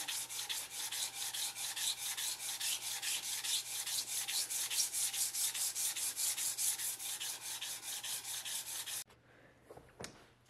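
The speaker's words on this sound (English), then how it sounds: "Now that I've got the profile done, it's time to sand these flats out again." Rhythmic back-and-forth rasping as the flats of a handmade knife blade are sanded by hand, close and steady strokes for about nine seconds, then stopping, followed by a couple of faint handling knocks.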